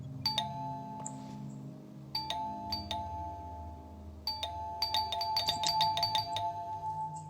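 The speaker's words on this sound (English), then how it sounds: "Ringing the bell's not doing anything." Doorbell on a house in the Hello Neighbor 3 video game, rung repeatedly: clear electronic chimes in several bursts, some rapid and overlapping, over a low background hum.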